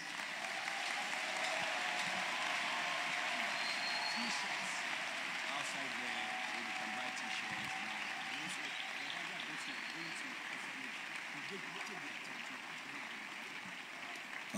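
An audience claps together at a church Bible seminar, with steady, dense applause that stays loud and even throughout.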